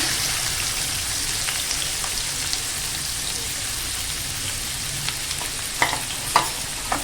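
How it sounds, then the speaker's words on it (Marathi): Onion sizzling in well-heated oil in a pan for egg bhurji, a steady, even crackle like rain throughout, with a few sharper pops and ticks near the end. "आता आपलं तेल चांगलं गरम झालेलं आहे आता आपण यात ना कांदा टाकून घेऊया"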